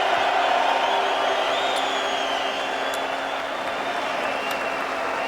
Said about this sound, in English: Very happy crowd here tonight.